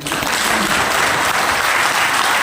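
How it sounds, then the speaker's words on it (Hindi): Loud, sustained applause fills a seminar hall as the audience claps hard and evenly throughout, a thick wash of hands with no pauses. "एक बार जोरदार तालियों"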